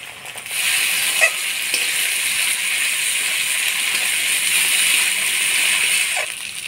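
Ground spice paste of garlic, ginger, coriander, cumin and chili fries in oil with browned onions for a Bengali egg khichuri, giving a steady close sizzle with a few stirring clinks and no talk.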